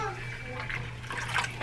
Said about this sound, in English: pour 2 cans of water in there